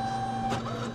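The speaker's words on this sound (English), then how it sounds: "we're gonna be printing the strips from this printer right here." A photo booth printer runs while producing photo strips, giving off a steady mechanical whir with a constant tonal hum and a brief louder feed burst midway, close and alone with no voices.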